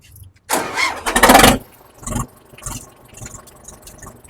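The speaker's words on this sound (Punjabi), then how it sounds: "ਕਰੇ ਨੂੰ ਸਟਾਰਟ ਕਰਕੇ ਦਿਖਾ ਫਿਰ ਸਟਾਰਟ ਕਰ ਦੇ ਬਈ" A tractor engine cranks and catches, roaring loudly for about a second before settling into a rough, uneven idle with occasional chugs.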